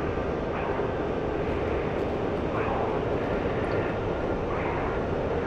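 A MiG-19 jet's engine in the DCS flight simulator gives a steady, broad, even roar that holds unchanged throughout, with no talk over it.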